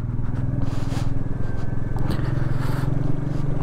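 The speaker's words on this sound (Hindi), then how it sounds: "हमने सोचा कि एक राउंड बाइक से लगा लेते हैं।" A motorcycle engine putters steadily at low speed while riding through narrow village streets in Hunder, Nubra Valley, with a close, continuous throbbing drone and a few brief rattles and scrapes.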